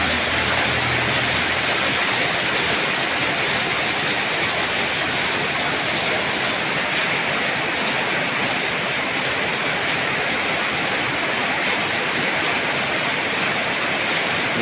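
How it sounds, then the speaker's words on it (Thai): Constant heavy hiss of afternoon rain pouring down, loud and unbroken throughout, with no talking. "คือบรรยากาศฝนตก"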